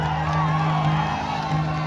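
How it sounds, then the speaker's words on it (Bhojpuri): A wedding tilak gathering answers with a dense wash of crowd noise, steady cheering and whoops filling the space throughout, loud and close, with voices mixed into the din. "एक जोरदार ताली उनके लिए बजाइए"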